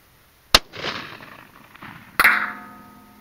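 Two sharp .243 rifle shots firing 90-grain Sierra Gamechanger bullets at long range, about 1.6 seconds apart, each a loud crack followed by a rolling echo, the second trailing into a faint ringing tone.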